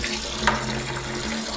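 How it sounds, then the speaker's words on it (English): Water runs steadily into a container of lime while air bubbles up through it, a continuous close gurgling fill with no one speaking. "Okay, so that's water going in. All this bubbling is air."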